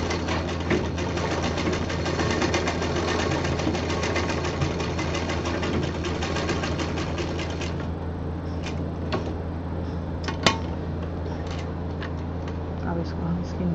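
A sewing machine stitches fabric to attach a zip to an expandable bag, running in a steady rapid mechanical rhythm for most of the stretch, then stopping. Scattered clicks and a sharp knock follow.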